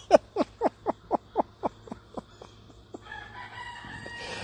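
A rooster crows outdoors at sunrise in a rapid, stuttering run of about nine sharp syllables that fade and weaken toward the end, followed by soft background noise.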